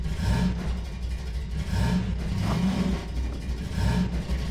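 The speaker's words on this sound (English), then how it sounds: "Get your car in the garage." A car driven into a garage in Half-Life 2, its mid-pitched engine revving and pulsing in repeated surges, close and loud throughout the short stretch.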